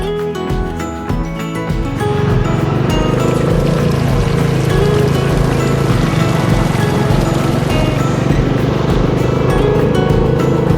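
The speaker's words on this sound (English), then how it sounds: "just the rhythm of the engine" A motorcycle engine drones steadily while riding in the rain, a loud, continuous low rumble with hiss layered over it and music playing throughout.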